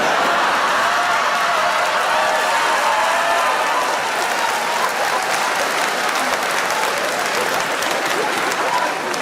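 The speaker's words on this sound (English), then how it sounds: "even though you're clapping and you're cheering" A stand-up comedy audience bursts into loud, sustained applause with cheering, a dense wash of clapping filling the room throughout and slowly easing.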